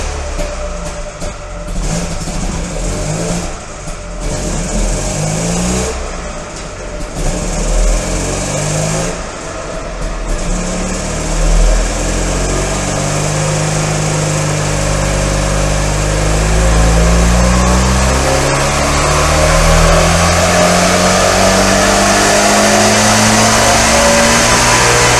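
Trabant car engine revving hard on a dynamometer with the clutch held down, a loud buzzing two-stroke note climbing steadily in pitch over a long sustained run.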